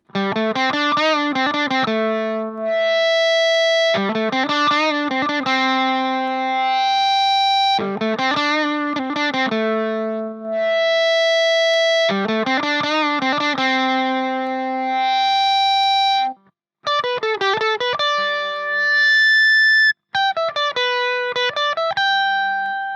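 An electric guitar runs through a Freqout feedback pedal with every knob at noon, playing loud sustained notes that swell into piercing feedback tones, in several phrases separated by short pauses.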